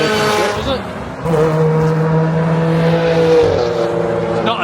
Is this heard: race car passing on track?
yes